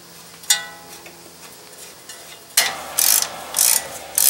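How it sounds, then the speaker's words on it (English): Ratchet wrench tightening a ball joint nut on a Dodge Dakota 2WD: a faint click and quiet lull give way to several loud, bursty ratcheting runs near the end. "Torque the nut to 60 foot-pounds"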